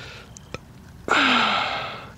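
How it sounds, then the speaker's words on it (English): An E-flite Viper 90mm RC jet spools up and lights its afterburner: a couple of faint clicks, then a sudden loud roaring whoosh with a falling whine that holds steady and slowly fades. "Do love that afterburner"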